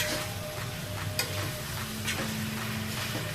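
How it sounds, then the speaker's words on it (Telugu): Marinated chicken for a spicy curry fries on high flame in a pan, giving a steady close sizzle with occasional scraping stirs, no voices. "హై ఫ్లేమ్లో మంచిగా ఫ్రై అయ్యే వరకు ఫ్రై చేసుకోవాలి."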